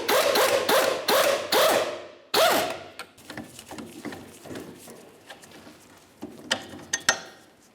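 A 22mm strut mounting bolt being loosened on a 1997-2003 Pontiac Vibe, with a series of loud, rapid ratchet bursts up close that give way to softer clicks, scrapes and metallic knocks, and no talk.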